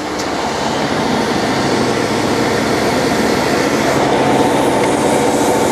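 A cold water sewer jetter runs throttled up with its hose in a pipe, giving a loud, steady, unbroken engine and water roar with no talk over it.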